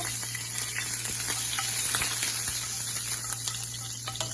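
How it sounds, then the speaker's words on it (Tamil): Fennel seeds and curry leaves spluttering in hot oil, a continuous close crackling sizzle with scattered sharp pops throughout, no voices. "சோம்பு பொரிஞ்சு வந்ததும் கருவேப்பிலை சேர்த்துக்கோங்க."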